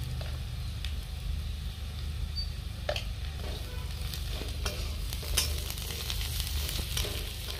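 Ground chilli, cumin and coriander powder sizzle steadily in a hot pan, with soft stirring scrapes and occasional clicks, close and continuous with no voices.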